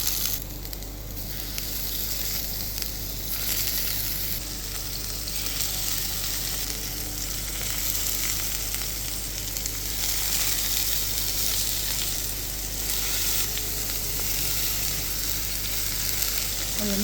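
Toothpick-wrapped zucchini frying in olive oil in a pan, a loud, continuous close-up sizzle and spatter that holds steady throughout with no talking.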